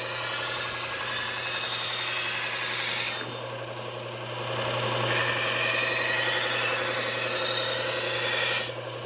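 A kitchen knife is sharpened on a P120 Cubitron abrasive, a loud, continuous close rasping grind that eases off briefly partway through before resuming and then stopping.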